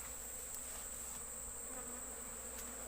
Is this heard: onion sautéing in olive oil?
no